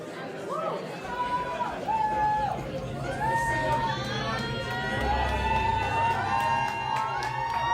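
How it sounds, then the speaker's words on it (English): A crowd cheers and chatters for live easel artists at a Bournemouth event, a steady roar of voices with whoops and shouts rising near the final seconds. "Getting a big cheer from the crowd as they support these artists."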